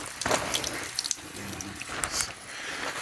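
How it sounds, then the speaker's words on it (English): Water runs from an opened faucet in a cabin fed by a booster pump, giving a moderate, fairly steady rush with splashy fluctuations and a few brighter spurts. "let's open the faucet and see what happens"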